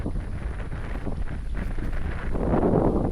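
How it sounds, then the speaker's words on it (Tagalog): Strong evening wind at San Pablo Highlands buffets the microphone, a continuous low roaring rumble that grows a little rougher toward the end. "dahil sa sobrang lakas ng hangin"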